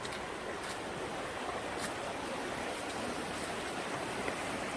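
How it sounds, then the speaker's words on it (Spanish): A river flowing beside a path in Vilcabamba, Ecuador, makes a constant, broad rushing wash of water, moderately faint and unbroken, with no voices. "estamos caminando al lado del río."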